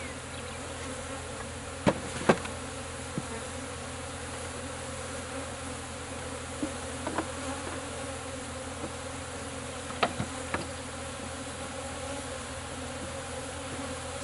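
Honey bees swarm during a cut-out hive removal, a dense, continuous buzzing drone filling the space, broken by a few sharp knocks and clicks.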